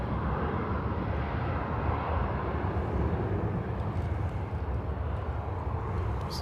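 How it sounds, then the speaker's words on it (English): An Aer Lingus airliner on its takeoff roll at Manchester Airport gives a continuous broad jet roar, steady and moderately loud from start to finish with no talk. "Aer Lingus on the roll now."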